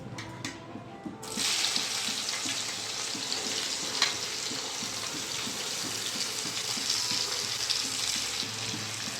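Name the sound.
chopped onions frying in hot oil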